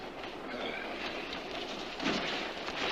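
A moving train rattles steadily on its rails, a continuous dense clatter and rumble with a faint rhythmic clack, heard alone without voices.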